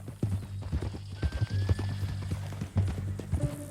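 Horse hooves clip-clop at a walk in Red Dead Redemption 2, a steady, close rhythm of uneven hoofbeats with faint voices in the background.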